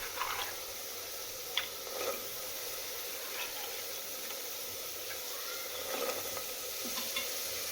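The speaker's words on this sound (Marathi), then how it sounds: "त्यामध्ये आता भिजवलेला वाटाणा टाकूया" Soaked dried peas sautéing in oil-released spiced masala, a faint, steady sizzle with occasional soft stirring scrapes and wet squishing sounds.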